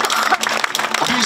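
A crowd applauds the winner of a 2024 Pentecost king contest, the clapping dense and steady throughout, with voices mixed in.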